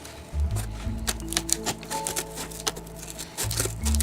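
Scissors snip through the side of an empty cardboard box in a run of short irregular cuts and crunches, close and fairly loud, with low thuds at the start and end.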